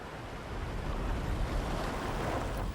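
Open-sea waves in the southwest North Atlantic, heard from a cruise ship bound for Nassau, make a steady, even wash of water with a faint wind rush over it and no break.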